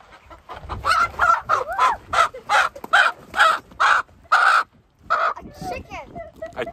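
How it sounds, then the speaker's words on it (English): A chicken clucks nearby in a rhythmic series of about a dozen loud, evenly spaced calls, then a few softer, irregular ones as it trails off. "A chicken."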